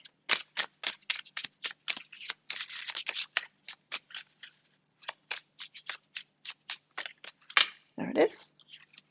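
Cards from a Wisdom of the Oracle deck are shuffled in quick, rhythmic riffling bursts, close up, before one card is drawn with a sharp flick and a soft slide at the end.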